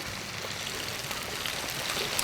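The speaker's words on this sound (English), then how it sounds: "as the rain comes down" Steady rain falls outdoors on a spring red drum fishing trip near Charleston, a continuous broadband hiss with no pauses, fairly loud and close, with no one speaking.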